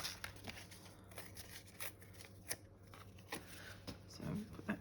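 Paper is torn slowly by hand for craft card-making, giving a string of close, crisp ripping and crinkling bursts at an uneven rhythm.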